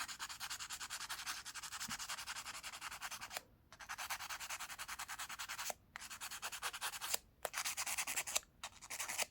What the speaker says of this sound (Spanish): Así lo lijan muy bien el pin para que haga bien contacto con el arnés.